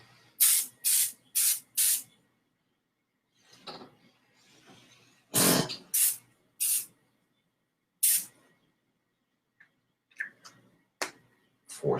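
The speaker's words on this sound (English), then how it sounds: "Four sprays that way" Ozium air sanitizer aerosol can sprayed in four short bursts, each a bright broadband hiss, followed by quieter handling clicks and rattles and a few more brief spurts near the end.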